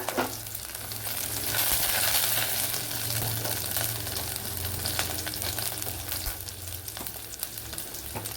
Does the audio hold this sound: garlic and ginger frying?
yes